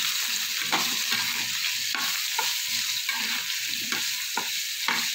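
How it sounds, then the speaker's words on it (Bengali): Potatoes frying with salt and turmeric in oil for a vegetarian drumstick-flower chorchori, a constant loud sizzle broken by regular scraping stir strokes about every half second. "লবণ, হলুদ দিয়ে ভালো করে একটু লাল করে ভেজে নেব।"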